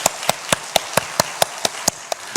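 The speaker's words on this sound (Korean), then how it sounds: "우리 신실하신 하나님께 영광의 박수 올려드리겠습니다" A church congregation claps in steady unison, sharp evenly spaced claps about four per second, fairly close and moderately loud, with no talking over them.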